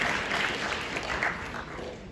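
Applause from a convention crowd, a steady wash of many hands clapping at moderate distance, with faint chatter mixed in.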